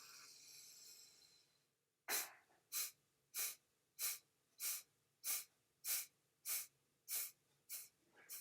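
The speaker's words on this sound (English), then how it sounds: "And you exhale until all of the air is exhaled from the body." Kapalbhati breathing practice: a long soft inhale followed by a steady series of about ten sharp, forceful exhalations through the nose, evenly spaced and close to the microphone, with no talking.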